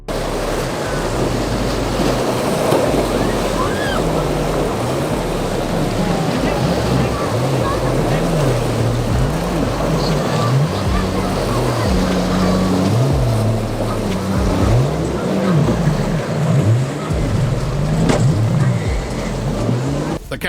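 A boat powers through choppy water in a channel, its engine droning under a continuous rush of splashing waves and wind, loud and close throughout, with voices talking over it.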